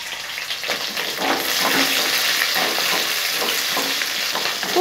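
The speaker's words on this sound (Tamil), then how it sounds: "சின்ன வெங்காயம் ஒரு 20 போல நறுக்கி சேர்த்துக்கிறேன்." About twenty chopped small shallot onions frying in a pan of oil for a garlic curry, giving a loud, steady sizzle that runs throughout with faint stirring sounds.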